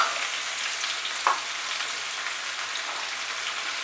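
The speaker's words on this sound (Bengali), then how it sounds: "আলু, বেগুন, পটল, কুমড়ো, 4 ধরনের সবজি একসঙ্গে আমরা ভেজে নেব।" Potato, eggplant, pointed gourd and pumpkin frying together in hot oil, a dense, even hiss like rain with one brief sharp pop partway through, no voices.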